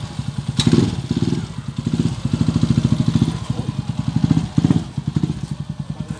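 A 175cc converted motorcycle engine chugs along on a road test in Villasis, Pangasinan, with a loud, close, rhythmic mid-pitched putter that swells and eases slightly, with no speech over it.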